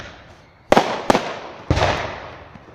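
Fireworks bursting outdoors: three sharp, loud explosions, the first two close together and the third followed by a long rumbling decay, with no voices.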